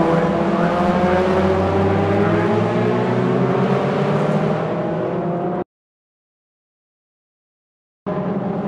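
Toyota MR2 race cars racing at Brands Hatch, a loud engine roar passing by and fading, then a stretch of silence before the engine noise returns.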